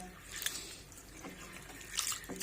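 Water splashes and sloshes in short, irregular bursts as lentils are washed by hand in a pot, fairly quiet and close, with small drips between the louder swishes.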